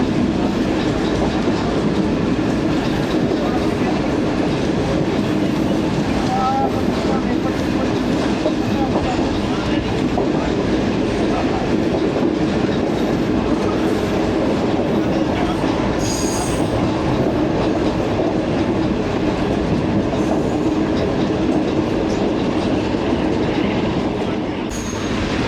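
A train rolls slowly through Farrukhabad railway station with a steady, loud rumble of wheels on rail, a faint rhythmic clatter and brief squeals near the middle, all heard close from on board.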